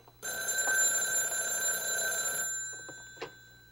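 An old-fashioned telephone rings indoors with one bright, steady, metallic ring lasting about two seconds, then stops, leaving a quiet room with a few faint knocks.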